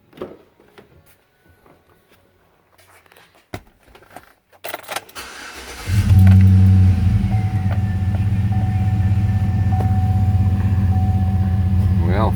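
A 2009 Chevy Tahoe engine starts after a fuel pump replacement, then idles steadily with a loud, even low rumble. Some clicks and handling noises come first.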